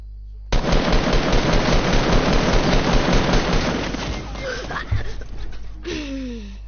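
Rapid automatic gunfire in the Fortnite video game, a loud sustained burst of shots for several seconds that tapers into scattered fainter shots, with a brief yelp near the end.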